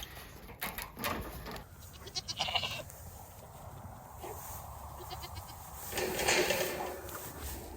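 Goats kept as livestock bleat at a farm, a few hoarse cries close by mixed with rustling, handling noises and outdoor background sound, no one speaking.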